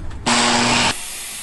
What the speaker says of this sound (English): So I've got the board I'm going to cut down to size.